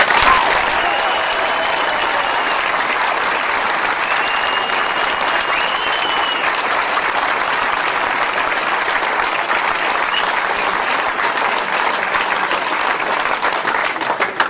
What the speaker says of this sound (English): please put your hands together and give a warm welcome for Mr. David Icke